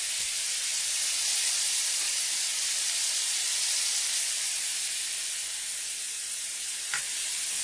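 Codfish frying in a pan for a Jamaican dinner, giving a steady, bright sizzle that hisses evenly throughout at close range, with one faint clink near the end and no talking.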